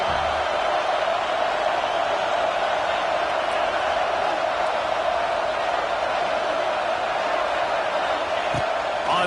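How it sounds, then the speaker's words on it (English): A home crowd roars in the College Football 26 video game, a steady, dense stadium din with faint whoops, continuous throughout and moderately loud. "how nice is it to have the home crowd going absolutely bananas?"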